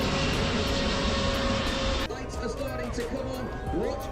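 A Qatar Airways airliner roars over the Qatar Formula One circuit in a loud, steady broadband rush that shifts and thins partway through, with faint crowd babble underneath.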